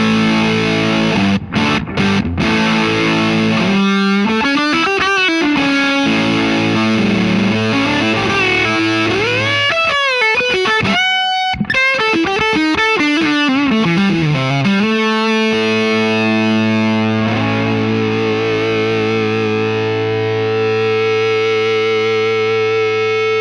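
Electric guitar played through a PRS DGT 15 amplifier with the input volume fully maxed, giving loud saturated distortion; sustained chords and sliding bends ring out alone with long sustain.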